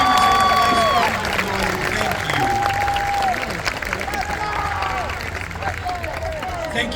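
Audience applause with cheering at a high school orchestra bicentennial concert, a loud sustained crowd roar with whistles and shouts throughout.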